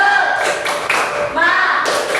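Schoolchildren in a classroom clap together in a short rhythmic cheer, loud and close, with bursts of patterned hand claps and voices chanting along.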